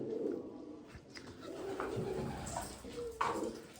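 Fancy pigeons, including jacobins, coo softly inside an indoor loft, their low, rolling calls repeating over a steady background hum with no talking.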